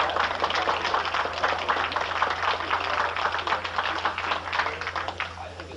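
A debate audience applauds steadily at an event on teaching Darwinism or creationism in public schools, with dense, even clapping that holds for several seconds at moderate volume.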